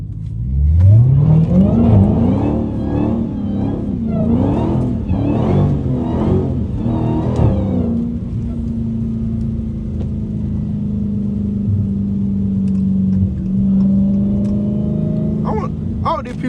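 A Dodge Hellcat's engine revs hard as the car slides sideways, with loud rising and falling rev surges over the first half, then a steady droning growl. A voice talks over it throughout.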